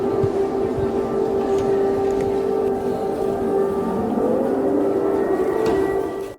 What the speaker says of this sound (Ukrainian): За збігом обставин незабаром після виступу була оголошена повітряна тривога.